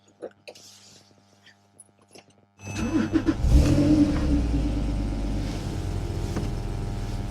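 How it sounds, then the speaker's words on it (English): A Porsche 911 997.2 Carrera with a 3.6-litre flat-six and switchable exhaust cranks and fires up after a few quiet clicks, then settles into a loud, steady, rumbling idle close by. "Let me just start the car up"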